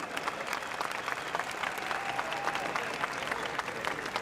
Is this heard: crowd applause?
yes